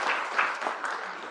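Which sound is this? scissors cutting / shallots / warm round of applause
warm round of applause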